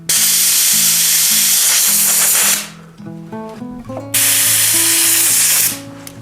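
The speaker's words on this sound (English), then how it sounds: "Up here on the shifters, I got compressed air." Compressed air blasting over the shifters of a vintage Trek 7000 mountain bike, two loud hissing bursts close up with a quieter stretch between them where a faint mechanical hum shows through.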